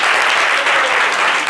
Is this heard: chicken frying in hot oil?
no